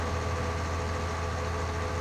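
A tractor engine in Farming Simulator 19, a cheap 170-horsepower model, idles with a steady low drone and constant broadband rumble, loud and unbroken throughout with no talk over it.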